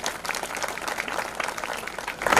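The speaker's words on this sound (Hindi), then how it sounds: "अपने मजबूत और जोरदार गांव के लिए जोरदार तालियां बजा दो एक बार।" Crowd applauding at an outdoor village political rally in Haryana, a steady dense wash of clapping throughout that swells louder at the end.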